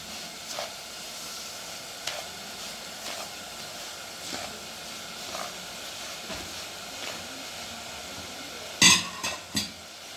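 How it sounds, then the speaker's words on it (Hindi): Semolina roasting in ghee on medium heat for halwa, giving a soft continuous hiss with a spoon scraping the pan every second or so, then a few louder clatters near the end. "अब हम इसको भूनते जाएंगे बिल्कुल मीडियम हीट पे"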